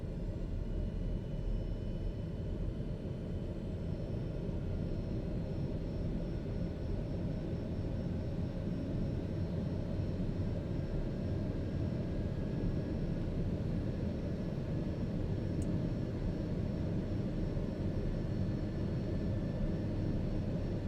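A TBM-850 single-engine turboprop holds a steady high idle in Microsoft Flight Simulator, a continuous loud low rumble and whine that stays even and close throughout.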